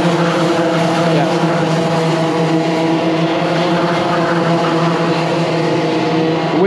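Several Club 100 racing karts roar continuously at close range, their engine drones layered and unbroken, loud throughout with no pauses.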